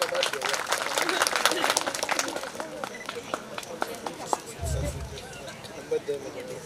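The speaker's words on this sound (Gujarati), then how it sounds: "આપણે સૌ મિત્રો તાળીઓના નાદથી વધાવીશું." An audience at a Gujarati lok dayro, an outdoor folk music and storytelling gathering, claps in a dense burst of applause that thins into scattered claps, with chatter and a few voices mixed in.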